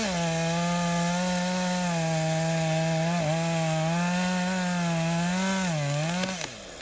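A chainsaw cuts through sand-covered trees on a coastal wild headland, its engine running steadily at high revs, loud and close, with a brief dip midway and a drop in pitch as the cut ends.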